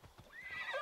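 A horse in Assassin's Creed Odyssey answers a call with a brief rising whinny, preceded by a few soft hoof thuds, close and moderately loud.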